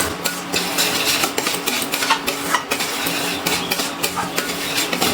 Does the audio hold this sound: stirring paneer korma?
yes